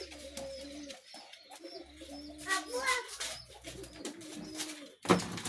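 Two pairs of fantail pigeons coo close by in low, rolling, repeated calls, with a few higher chirps and a sharp rustle near the end.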